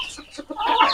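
Meat chickens on a farm cluck in a short, close burst of several quick calls that grow louder toward the end.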